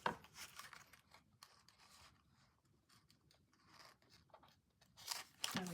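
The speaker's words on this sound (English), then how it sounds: "I will trim away that knot" Scissors trimming away a quilter's knot, faint close snips and rubbing crunches in a quiet setting, irregular and soft, with a few louder handling sounds at the start and end.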